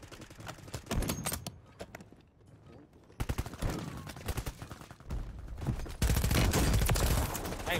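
Gunfire in the video game Call of Duty Warzone: loud bursts of rapid automatic shots and scattered single cracks, some close and some further off, mixed with game noise and a voice talking.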